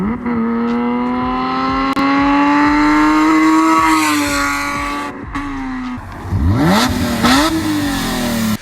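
A BMW E36 M3 engine with its muffler removed revs loud and raw, the pitch climbing steadily over several seconds, then dropping off and surging again in short sharp blips near the end; no one speaks.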